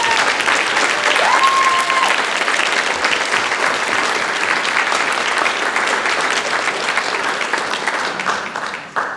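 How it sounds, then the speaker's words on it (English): An awards night audience applauds steadily for about nine seconds, a dense, even wash of clapping that fades slightly at the end. "Let's give a big round of applause and congratulations to our outstanding recipe, Liana Nguyen."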